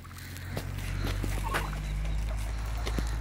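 Village chickens cluck and squawk in short bursts over a steady low hum, with scattered sharp clicks and knocks nearby.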